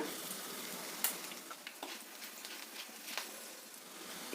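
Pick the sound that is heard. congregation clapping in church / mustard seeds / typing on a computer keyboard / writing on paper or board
mustard seeds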